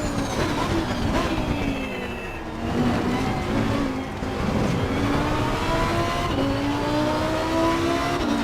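Lamborghini Huracan EVO2 GT3 racing engine from the Assetto Corsa Competizione sim, revving and shifting steadily through gears with rising and falling pitch, held at a moderate level and continuous throughout.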